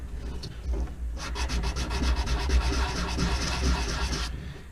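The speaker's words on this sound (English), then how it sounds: "get my sandpaper out and sand this down nice and smooth" A part from a Bruder D11 RC model conversion is hand-sanded with sandpaper in steady, close back-and-forth rubbing strokes, rhythmic and scratchy, with no talking.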